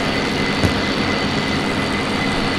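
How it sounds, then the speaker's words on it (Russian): A plane's engine roars steadily at full power in the IL-2 flight combat game, a loud, dense, unbroken drone with no pauses. "И поскольку сейчас двигатель работает на полную мощность"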